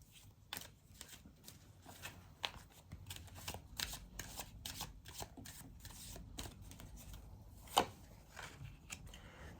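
Tarot cards being shuffled and spread on a surface: quiet, dense riffling clicks and soft slaps in irregular bursts, with one sharper snap near the end and no voices.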